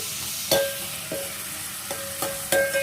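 Brinjal and egg curry ingredients fry in a pan until lightly browned, a steady sizzle broken by several sharp stirring scrapes at regular intervals, close and moderately loud.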